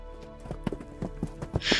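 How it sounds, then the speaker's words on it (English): Horses' hooves pound on a road as they approach in semi-darkness, a quick irregular run of sharp clip-clop strikes, close and fairly loud, with no talking. "In the semi-darkness, there was the pounding of horses approaching us"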